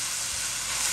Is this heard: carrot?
yes